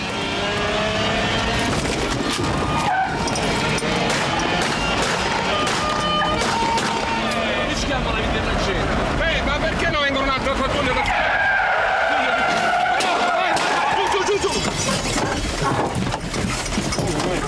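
Tires skid and squeal as cars race through city streets in a night police pursuit of a smugglers' car, the screeching loud and sustained over continuous engine roar.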